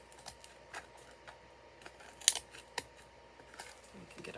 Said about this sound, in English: I'm not sure if scissors will cut it.